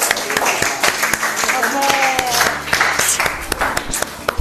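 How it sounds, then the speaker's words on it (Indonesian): A group of students claps together in a classroom after presenting, a dense patter of hands running steadily under a teacher's ongoing talk. "Tepuk tangan dulu dong, kelompok."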